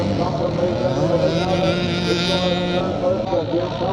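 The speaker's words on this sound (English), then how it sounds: "James Thompson, number 26 on the 360 CZ, as both these riders start their last and final lap of this pre-77 class race." Vintage pre-1977 motocross bikes, a 360 CZ and a CCM, race a final lap at a classic scramble in Northern Ireland, their engines droning and revving loudly and continuously while a commentator speaks over them.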